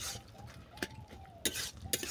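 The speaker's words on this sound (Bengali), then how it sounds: "এটাকে দিয়ে অল্প করে নেড়ে চেড়ে আমি নামিয়ে নেব" Fried small chuno fish stirred in a curry pot with a few distinct metal spoon scrapes and clinks against the pot over a faint low sizzle.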